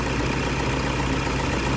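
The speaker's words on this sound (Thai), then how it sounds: "เสียงเครื่องยนต์นิ่งนะตอนนี้" A car engine idles steadily, a constant low rumbling hum with an even, unchanging tone and no voices.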